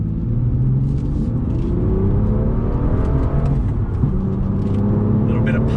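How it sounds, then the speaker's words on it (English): A 2018 BMW M2 engine revs steadily and loudly while driving, its rising and falling harmonic drone filling the cabin with occasional faint talk over it. "Love the sound of that engine."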